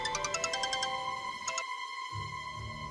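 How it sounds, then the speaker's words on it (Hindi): A phone ringtone plays a short repeating melodic pattern, then a brief second burst before cutting off, with a faint low hum afterward. "केशव जी का फोन"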